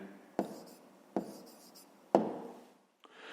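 A pen scratches across paper as an answer is written out by hand for a fifth-grade maths exercise, in three short strokes with quiet pauses between, near and faint.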